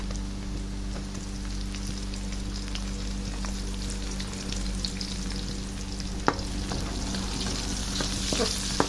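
Onions sizzle in a pan with garlic, a steady, close crackling hiss of frying that runs throughout with a few sharper pops and faint stirring.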